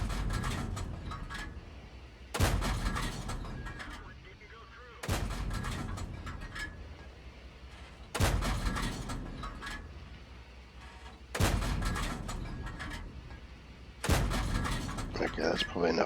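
A tank cannon fires premium rounds in a tank video game, five heavy booming shots spaced a few seconds apart, each decaying into a rumbling tail.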